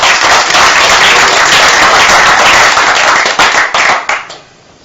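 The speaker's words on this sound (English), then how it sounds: "Okay, give him a clap." Audience members at a talk on family courts break into a loud burst of clapping that rings out evenly for several seconds, then thins into a few scattered claps and fades quickly.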